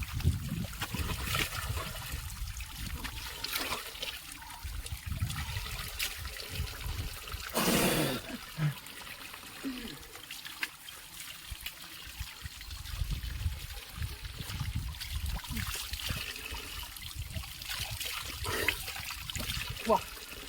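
Cold mountain stream water flowing and splashing as someone washes their face in a roadless hill village near Madurai; steady close trickle and pour with splashes, voices talking over it throughout.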